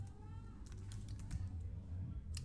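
Typing on a computer keyboard while coding a paper-trading script, with soft rapid key clicks running steadily through the whole stretch over a low background hum.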